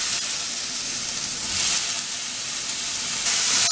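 Tomato tossed into a hot pan of frying vegetable Manchurian sauce, giving a loud, close, continuous sizzle with bursts of hissing steam as it is stirred.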